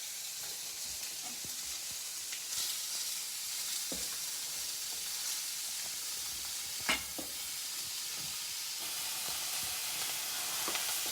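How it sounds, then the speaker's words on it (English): Steady, bright sizzling of pork frying in a pan, continuous crackle and hiss with a few sharper pops, fairly close. "Let that sizzle away."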